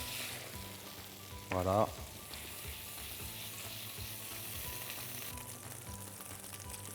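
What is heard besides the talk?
brioche soaked in custard frying in butter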